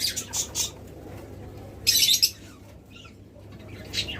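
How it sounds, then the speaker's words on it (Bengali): Several loud, sharp calls of a Chittagong hill myna in short bursts, a strong whistled burst near the middle, over a steady low hum of background noise. "চট্টগ্রামের হিলি ময়না"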